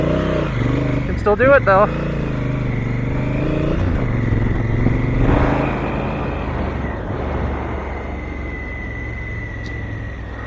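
A big Honda CRF1000L adventure motorcycle doing spins with traction control off: a loud, close engine rumble with a sharp rev burst early on, then a steady drone that slowly fades, under a voice.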